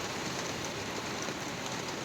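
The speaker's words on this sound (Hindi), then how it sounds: "काफ़ी ज़्यादा बारिश हो रही है, पूरा मज़ा किरकिरा हो गया।" Heavy rain pours down in a steady, dense hiss, loud and unbroken throughout, with no voices.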